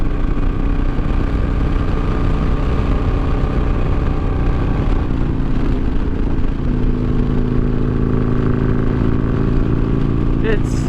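A Harley Davidson Iron 883 fitted with progressive fork springs rides along with a steady, loud engine drone and road rumble throughout, and a voice seems to talk over it.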